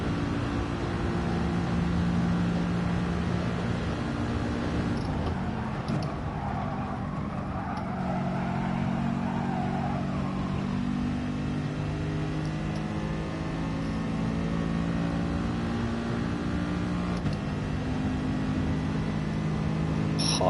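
A race car engine in Gran Turismo Sport drones steadily under load, its pitch shifting as it revs out through corners, loud and continuous without talk.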